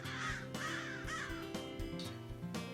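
A crow gives a quick run of harsh, rasping caws, about six calls in under three seconds, fairly close and clear against a faint steady hum.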